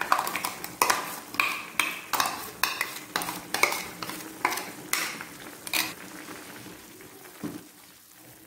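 A spoon scrapes and stirs through a pot of boiling radish avial as ground coconut paste is mixed in, a steady series of rhythmic strokes close up that thin out toward the end.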